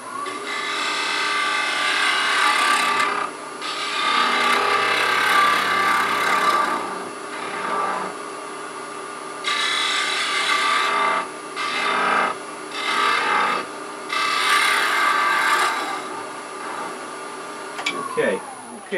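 A small wooden spindle spinning on a lathe while being sanded, producing a continuous rasping, rubbing hiss in several long passes separated by short pauses, loud and close.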